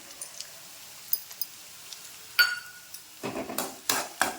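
Curry leaves and crushed garlic being sautéed in a pan for bitter gourd thokku: quiet at first with small clinks, then louder bursts of sizzling and spatula scraping near the end.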